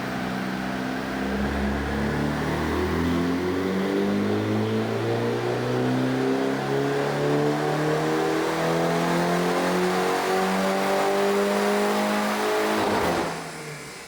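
A reprogrammed Mini John Cooper Works with a stainless exhaust revs steadily on a dyno inside a closed room, loud and close, its engine note climbing in repeated sweeps for about twelve seconds before cutting off abruptly.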